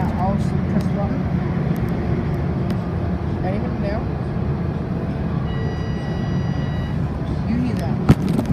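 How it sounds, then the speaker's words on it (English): A bus with a faulty motor runs with a steady, loud low rumble that persists throughout, with occasional faint clanks, and a voice talks quietly over it. "I'm on a bus and it has a bad motor"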